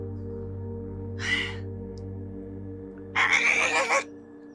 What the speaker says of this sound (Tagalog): Isang ibon lang pala.